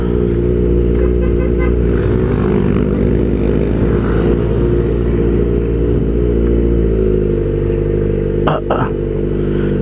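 A Kawasaki ZX-4RR motorcycle engine idles steadily and loudly up close, with a couple of brief clattering knocks near the end.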